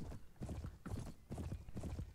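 Horse hooves clip-clop in a steady rhythm on an open battlefield in a medieval video game, close and fairly loud, with repeated clusters of hoofbeats and no talk over them.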